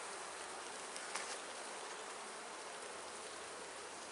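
Honey bees from an opened Venus hive swarm in a steady, agitated hiss-like buzz that fills the air evenly and continuously, with no voices over it.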